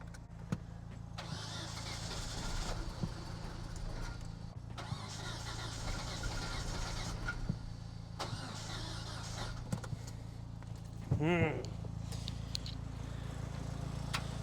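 A Mitsubishi Ram 50 truck engine with a carburetor fuel problem cranks in repeated long bursts, a steady low grinding churn close by, with a brief higher whine near the end.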